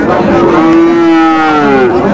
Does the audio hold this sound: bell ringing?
no